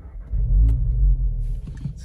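An Audi S3 8V engine comes to life with a deep, low rumble that swells and holds briefly, then eases, while a person talks nearby.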